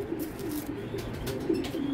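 Racing pigeons coo up close, a low, throaty, rolling murmur repeating steadily over a soft background hum.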